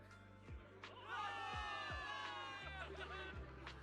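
A crowd in the video game Zenless Zone Zero cheers a victory, a swelling mass of shouts and babble heard at moderate level with thumping game effects underneath.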